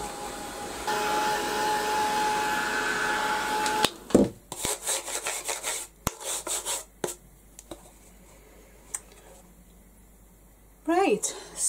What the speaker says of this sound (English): I'm going to give it a blast now with the heat gun